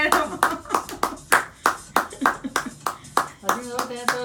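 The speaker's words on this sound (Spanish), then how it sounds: "¡Bravo! Hay que aplaudirle primero." Several people clap in uneven bursts, about a dozen sharp, close claps with short pauses between them, loud and near, with voices mixed in.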